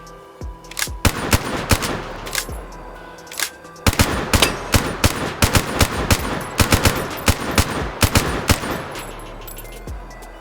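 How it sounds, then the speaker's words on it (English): Bursts of automatic gunfire from a futuristic Call of Duty: Black Ops III weapon in H3VR, loud, close and uneven, with clusters of rapid shots broken by short pauses and a few single cracks. "Weird firing there"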